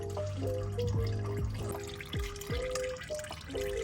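Motor oil drains from the oil pan of a 2010 Infiniti FX35 during an oil change, giving a steady liquid trickle with a series of distinct drips plopping every half second or so, close and fairly quiet.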